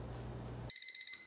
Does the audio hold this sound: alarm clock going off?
yes